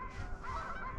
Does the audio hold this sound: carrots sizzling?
no